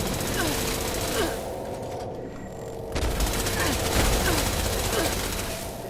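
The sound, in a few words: Tesla cannon firing in Fallout 76 video game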